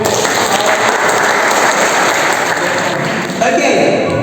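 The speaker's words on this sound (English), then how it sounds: "Give applause." An audience applauds after a speech at an English performance event, steady dense clapping filling the whole stretch.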